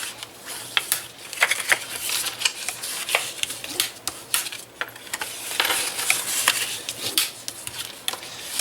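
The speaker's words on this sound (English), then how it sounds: "what we're going to do now is just fold on all of our score lines" Card stock is folded along its score lines, giving a series of quiet crisp creases, taps and rustles at close range in an irregular rhythm, with no talking.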